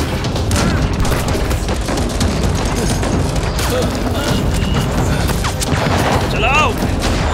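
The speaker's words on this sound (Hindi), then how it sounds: "चलो रिच, गोली चलाओ" Heavy gunfire from a sci-fi action battle: dense rapid bursts and booming blasts crowd together, loud and continuous, with crashes and a brief ricocheting whine near the end, and shouted voices mixed in.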